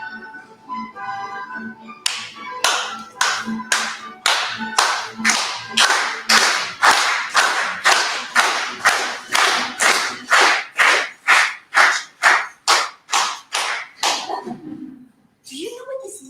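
Steady, evenly spaced clapping in unison, about two dozen sharp claps that build slightly in pace before stopping abruptly.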